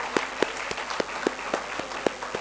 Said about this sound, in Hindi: एक और बार जोरदार तालियां होना चाहिए।